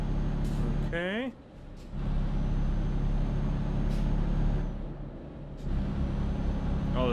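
Heavy truck engine droning steadily through a tunnel in Euro Truck Simulator 2, a loud continuous low rumble with a brief dip and a short whining tone, with a person talking over it.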